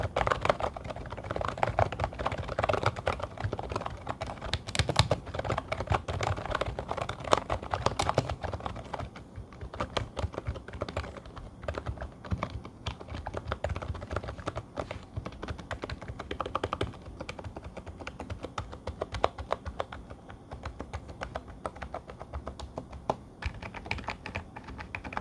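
Someone types steadily up close on a Redragon K512 Shiva RGB membrane gaming keyboard with rubber-coated keys. The soft, fairly quiet keystrokes form a dense, continuous patter for the whole stretch, with no voices.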